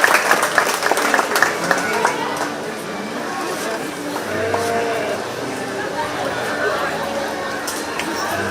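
An audience at a county fair 4-H goat show claps for the young showmen, with applause loudest at the start and then easing into crowd chatter; a goat bleats faintly and an announcer speaks.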